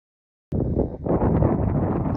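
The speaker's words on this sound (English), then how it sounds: "get sheltered out of this wind which is coming up now" Wind sweeping across open Dartmoor moorland, cutting in abruptly after a brief silence as a loud, steady roar buffeting the microphone, with no voices.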